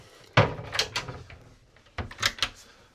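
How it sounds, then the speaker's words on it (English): A wardrobe door opening aboard a Princess F58 yacht, a close thump and rattle of the door and catch, then a few lighter knocks and clicks a moment later, with no talk. "single wardrobe there, and then a lovely big double here, which auto illuminates as you open it"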